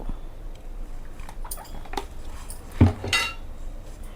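Mutton pieces are tossed with half a lemon's juice and a little oil in a metal vessel, giving soft wet mixing sounds and scattered clinks of utensil on metal, close by and without talk.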